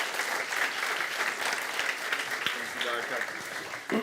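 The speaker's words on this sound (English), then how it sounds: "So big applause for Peter Mary on stage" Audience applause for a keynote speaker at a European youth work academy event, steady sustained clapping from a crowded room with voices mixed in.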